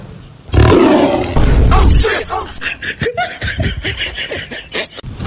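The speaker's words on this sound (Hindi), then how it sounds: "कभी शेर का आवाज आ रहा है" Lion roar played as a sound effect, a loud, broad roaring burst at the start followed by a rough, growling sequence of shorter rumbles that fade out near the end.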